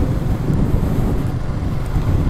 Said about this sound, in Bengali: তবে এই পাশে চরম ঢেউ।